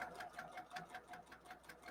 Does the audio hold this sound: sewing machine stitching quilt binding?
yes